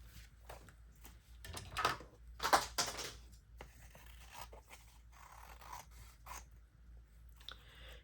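Scissors snip through a sheet of paper made to tear out of a book, giving a few close, crisp cutting and scraping strokes in a quiet room.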